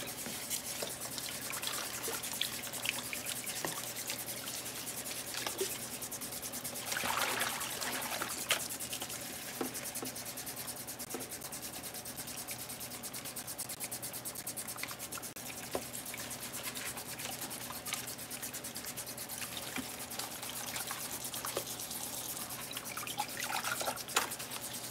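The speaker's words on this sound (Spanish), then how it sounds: "Y los voy a mojar con agua fría." Cold water trickles and drips over fresh strawberries, a faint, continuous splashing with scattered small drips and light rubbing sounds, no voices.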